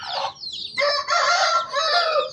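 A Brahma rooster crows loudly and close by, a drawn-out, wavering call with a short clucking lead-in.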